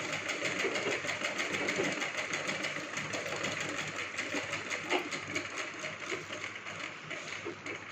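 A sewing machine runs steadily, stitching the edges of a lehenga with a continuous mechanical whir and fine rapid clatter, fairly close, no voices.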